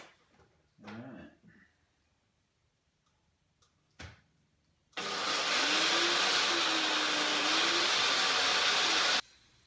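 A NutriBullet blender crushes eggshells for a protein shake: after a couple of short knocks, a loud, steady close-up whirring grind runs for about four seconds, then stops abruptly.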